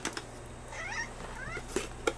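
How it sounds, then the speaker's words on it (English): Cats meow at treat time in a few thin, rising cries mixed with small clicks and taps indoors, moderately close and not loud. "The cats are going crazy."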